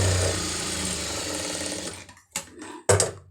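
Sewing machine stitching a folded hem in a tailoring class, a steady close mechanical whir that stops after about two seconds, followed by a few short clunks and rattles.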